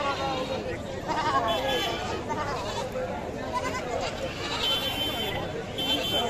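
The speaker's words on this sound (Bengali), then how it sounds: "ভাই, ছাগল দিয়ে ভরে গেছে আজকে।" Goats bleat repeatedly amid the busy chatter of a crowded animal market, the calls overlapping with people talking nearby.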